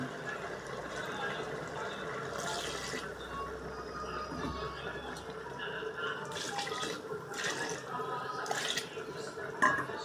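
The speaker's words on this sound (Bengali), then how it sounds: "তরকারি কষা হয়ে গেছে, এখন জল দিয়ে দিন" Water poured into a prawn and pumpkin curry after the spices are fried down, a soft continuous splashing and trickling that is faint and sits under background noise.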